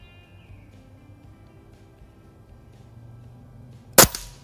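A single sharp snap near the end as an Air Venturi Avenger airgun pellet strikes a pop-it target downrange, preceded by quiet outdoor background hum; one crisp, loud crack.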